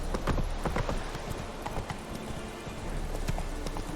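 Roach the horse galloping in The Witcher 3, rapid rhythmic hoofbeats thudding steadily and close over a dense game soundscape, with no talk.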